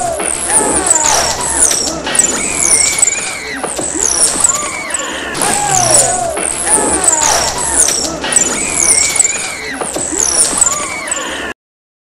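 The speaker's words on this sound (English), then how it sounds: "I decided to also shoot at the camera from lots of different angles and record the sound" Full-auto slingshot shots striking near the recorder, a rhythmic series of sharp whizzes, high squealing sweeps and impacts repeating in bursts for about eleven seconds, close and loud.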